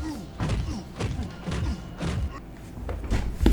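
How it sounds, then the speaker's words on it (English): Several dull thumps of someone knocking on a door, spaced about half a second apart, muffled and moderately loud with low background noise. "No, I heard somebody knock on his door."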